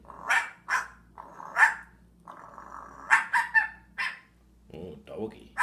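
A pet talking bird imitates a dog, giving a run of short bark-like yelps and a growly call, close and loud with quiet gaps between bursts.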